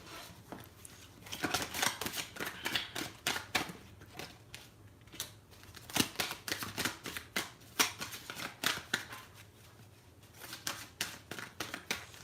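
A deck of tarot cards is shuffled by hand, with rapid, close papery riffles and flicks repeating in uneven bursts, with no voice over them.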